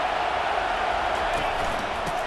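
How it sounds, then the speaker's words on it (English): Steady roar of a stadium crowd at a college football game in NCAA 25, a loud, continuous wash of noise rising as fans try to help their defense, with no distinct voices standing out. "It is getting loud as this crowd tries to help its defense."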